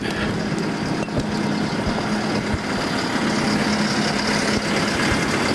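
A steady, low engine idle rumbles on without change, a heavy diesel-like drone with faint mechanical rattle and no voices.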